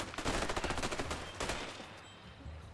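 Rapid bursts of gunfire from the video game A Way Out, a dense volley of close, loud shots in quick succession that thins out and trails off toward the end, with no talking.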